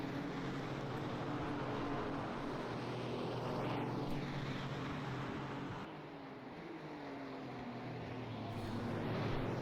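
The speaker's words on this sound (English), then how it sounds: "turn the engine sound down a little bit so it's not blasting your ears off" A Porsche 935/K3 race car engine drones steadily at Road Atlanta during an SRO USA Cup round, its continuous roar swelling and fading slightly as the car passes, with no talk over it.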